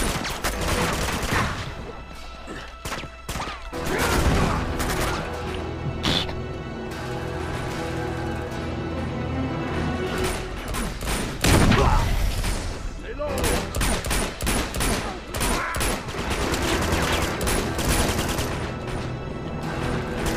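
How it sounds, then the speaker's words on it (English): Sustained gunfire from Uncharted 2: Among Thieves rattles in dense bursts and volleys across the whole stretch, loud and continuous, with voices talking over parts of it. "Who just shot that man?"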